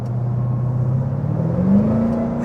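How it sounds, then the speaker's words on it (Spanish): The supercharged engine of a 2024 Dodge Durango SRT Hellcat hums from inside the cabin, holding a steady low drone before a short rise in pitch as it accelerates. "El sonido, Dios mío, de este carro."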